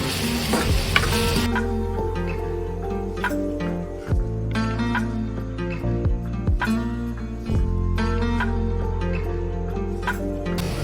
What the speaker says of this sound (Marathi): तर चांगलं परतून घेऊया आपण.